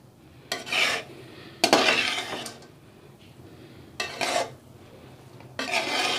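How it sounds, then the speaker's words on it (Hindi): Macaroni pasta mixed with chopped coriander in a pan gives four separate bursts of close, scraping stirring, with quiet pauses between them and no talking. "धनिया डाल के भी हम इसको मिक्स करेंगे।"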